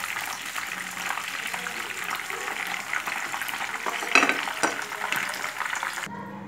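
Sheekh kababs frying in hot oil in a pan, a steady close crackling sizzle with a few louder pops and a brief clatter near the end.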